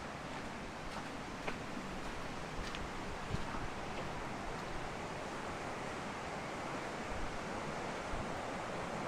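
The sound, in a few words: water flowing over a weir in a gorge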